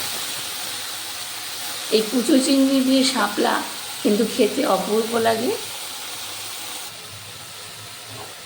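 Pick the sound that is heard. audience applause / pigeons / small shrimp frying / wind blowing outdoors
small shrimp frying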